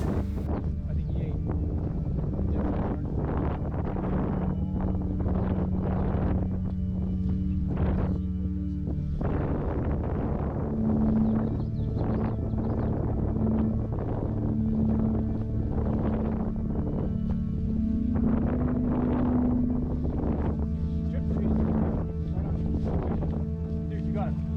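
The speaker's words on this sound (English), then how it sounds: "you can see that the wind was pretty much at its peak at this point" Strong wind buffeting the microphone during bass fly fishing from a boat, a constant low rumble throughout with people talking over it.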